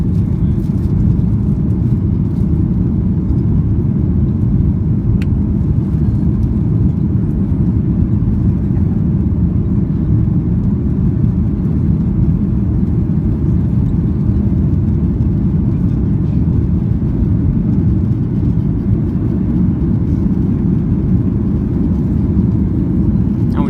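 Steady loud roar of a Norwegian Boeing 737-8 cabin as the jet climbs out after takeoff from London Gatwick with flaps retracting, a dense low engine drone holding constant throughout with no talk.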